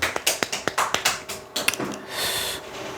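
Audience at a sales lecture clapping in a rhythmic series of sharp, close hand claps, then breaking into a brief looser patter that fades.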